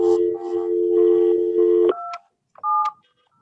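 Touch-tone telephone keys dialing out on an office speakerphone, a steady dial tone broken by a rapid run of short beeps, then a couple of separate tones as the call connects.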